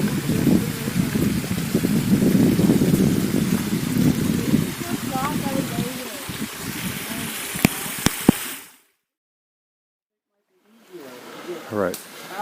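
A waterfall inside a cave gives a steady, loud rushing roar of falling water under people talking, then cuts abruptly to silence before quieter sounds return.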